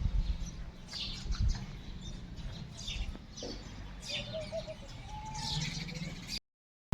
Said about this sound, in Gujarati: અહીંયા સાંજ થાય એટલે પક્ષીઓનો મધુર અવાજ પણ સાંભળવા મળે